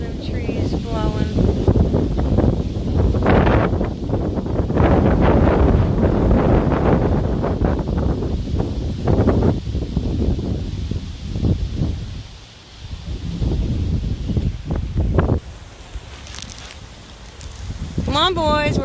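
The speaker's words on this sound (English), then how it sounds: "Oh, here comes the wind. Look at them trees blowing." Strong wind gusting through trees during flooding, a loud, constant roar with buffeting against the microphone, while people talk and call out over it.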